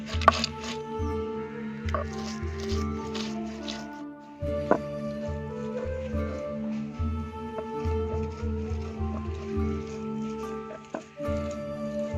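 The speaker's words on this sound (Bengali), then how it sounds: "শিলে মশলা করা হচ্ছে আদা রসুন জিরে কাঁচা লঙ্কা পেঁয়াজ সব একসঙ্গে করে বেটে নিচ্ছে" Ginger, garlic, cumin, green chilli and onion are ground together on a flat grinding stone, a steady, close, rhythmic rubbing and squishing with wet crushing strokes over a constant background of music.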